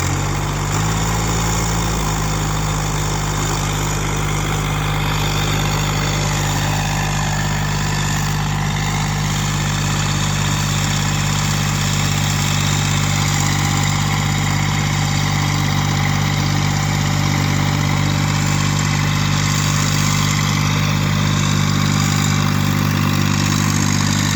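Small Massey GC 1710 sub-compact tractor with loader and backhoe, engine working steadily as it climbs an incline in reverse; a continuous, close, loud drone holds throughout with no talk.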